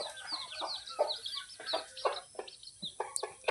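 A free-range village hen with twelve newly hatched chicks: the chicks peep in quick high bursts while the hen clucks low and close, with no talk.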